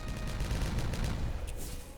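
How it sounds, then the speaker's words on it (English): Detonation charges in Timberborn go off as a rapid crackle of small blasts, dense and continuous like a string of firecrackers, fairly loud for a couple of seconds before thinning out. "Let's detonate this bit."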